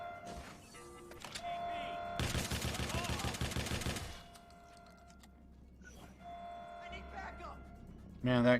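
Automatic gunfire in Watch Dogs 2 rips out in one long, loud burst of rapid shots, with sparser game sound effects and someone talking around it.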